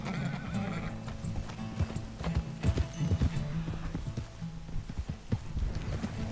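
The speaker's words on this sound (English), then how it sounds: "Get that horse in line, Arthur." A horse in Red Dead Redemption 2 clip-clops steadily on the ground, its hooves loud and near, while a whinny cuts in partway through. Game ambience sits underneath.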